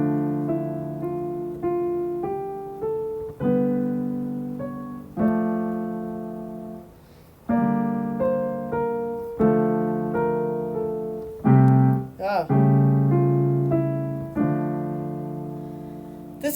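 A minor scale played on a keyboard, ascending then descending as a clear sequence of single sustained notes with steady spacing and no voices.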